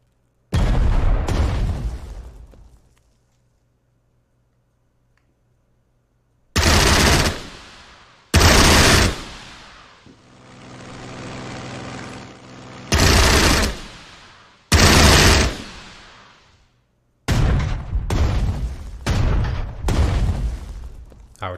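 Bursts of gunfire and booming explosions from the naval wargame Strategic Mind: The Pacific, loud separate volleys with rapid machine-gun rattle between short silences, plus a longer rumbling blast in the middle.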